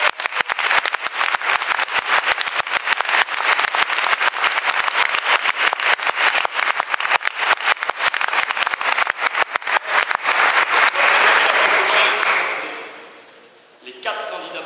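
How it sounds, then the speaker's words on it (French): Audience at a brass music competition in Namur applauding prize-winning candidates, dense sustained clapping from a full hall, loud and even, fading out near the end. "J'aimerais que le public vous applaudisse encore une fois bien fort"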